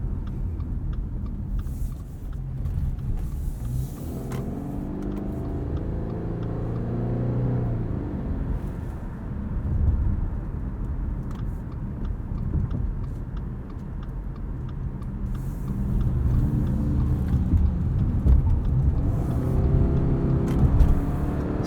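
Engine of a 2021 Subaru Crosstrek under normal driving around 2,000-3,000 RPM, a coarse steady drone with road rumble heard from inside the cabin, moderately loud and continuous, with no talk.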